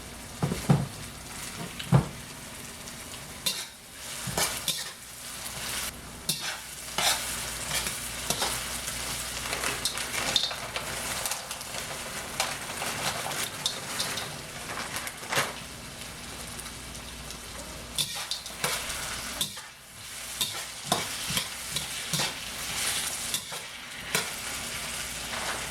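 Frozen peas and carrots hiss and sizzle in a hot pan for fried rice, a steady dense crackle broken by frequent stirring scrapes and clatters, close and fairly loud with no voices.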